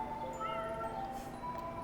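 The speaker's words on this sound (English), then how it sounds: "Ah, look at all the kitties." Cats meowing in the video game Tokyo Dark, faint overlapping mews rising and falling over a soft background music bed, quiet and brief.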